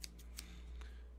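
Scissors snipping hair during an ASMR haircut, a few crisp close snips spaced apart over a low steady background rumble from a nearby busy highway.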